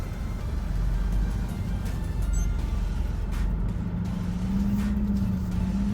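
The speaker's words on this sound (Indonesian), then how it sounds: "Mobil ini 2500 cc, mesinnya bagus responsnya" A 2022 Mitsubishi Pajero Sport Dakar with a 2500 cc engine runs with a steady low rumble and road noise. The engine note rises and falls slightly as it drives, close and constant, and nobody speaks.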